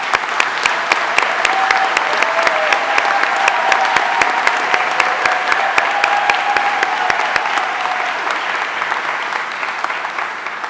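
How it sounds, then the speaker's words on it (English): A graduation audience at ARU Chelmsford claps steadily for the new graduates, a loud, dense and even round of applause that carries on throughout and eases slightly toward the end. "So let's give you a clap."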